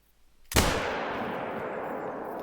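A single loud, sharp gunshot in a bear-hunting video game cracks out of near silence, followed by a long, broad rumbling decay that fills the rest of the clip.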